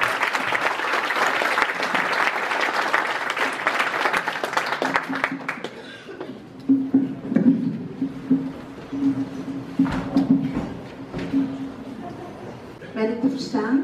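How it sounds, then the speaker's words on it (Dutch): A conference audience on racism and discrimination claps warmly for about five seconds, then the clapping dies away and a voice begins speaking amid room noise. "Dus ik wil graag echt een hartelijk applaus voor niemand minder dan Carol."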